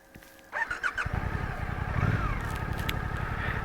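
A Suzuki GSX 8S middleweight streetfighter motorcycle cranks briefly and fires up close by, then settles into a steady, throbbing idle.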